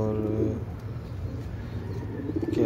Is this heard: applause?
no